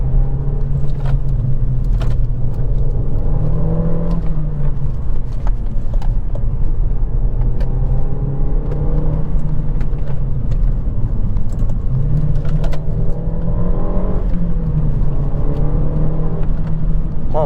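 A 225 hp Renault Mégane 2 RS in original stock condition drives along, its engine note rising and falling in repeated revs as it accelerates, loud and steady with no talking over it.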